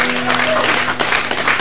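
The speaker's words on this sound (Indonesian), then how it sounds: "tepuk kasih semangat dong buat Bang Billy" A studio audience on an Indonesian talk show applauds for guest Billy, a steady, dense wash of clapping filling the whole short stretch, with faint tonal background sound underneath.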